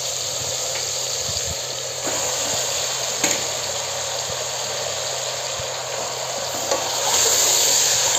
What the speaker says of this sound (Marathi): पूर्ण असं वर खाली करून मस्त परतून घ्यायचं आणि त्याला पाणी सुटेपर्यंत असंच हे करायचं